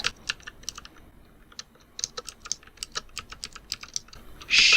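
Code is typed on a computer keyboard in quick, close, crisp bursts of key clicks with short pauses in between, ending in a louder brief clatter, with no talking.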